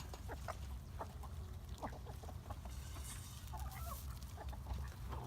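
Backyard flock of a couple dozen chickens and two ducks clucking during feeding with organic chicken feed, with a rooster present; scattered soft clucks and calls over steady low background noise.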